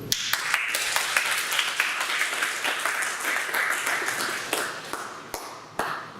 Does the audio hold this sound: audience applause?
yes